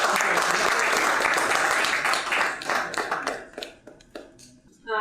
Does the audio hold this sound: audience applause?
yes